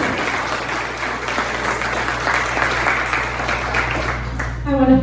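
An audience at a municipal candidates forum applauds, a steady wash of clapping from a moderately sized crowd lasting several seconds before tapering off at the end.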